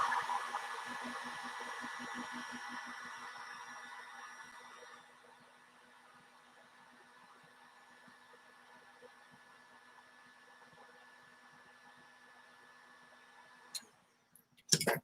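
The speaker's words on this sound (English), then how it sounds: "Let me see the heat gun." Heat gun blowing hot air while working on a Kraton RC car, a steady broadband whoosh for about five seconds that then drops to a faint hiss and cuts off, with a few sharp clicks near the end.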